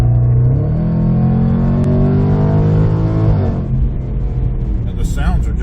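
A 2019 Jaguar F-Pace SVR engine revs hard under acceleration, its loud harmonic drone climbing steadily in pitch from inside the cabin, then dropping away as the throttle lifts.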